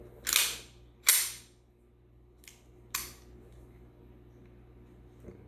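Beretta M9A3 pistol trigger pulled several times, giving sharp mechanical clicks and snaps: two loud ones close together, then a faint one and a louder one, with quiet room between them.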